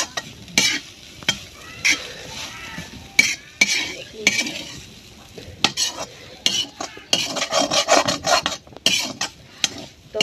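Soybeans and onion fry in a pan while a spoon stirs them, giving a steady sizzle broken by repeated scraping strokes and clinks against the metal, close and fairly loud.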